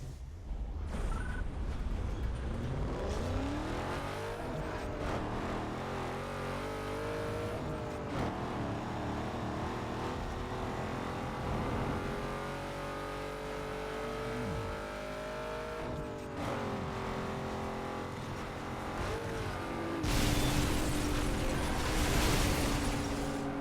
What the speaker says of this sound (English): What is the sound coming out of that Hummer?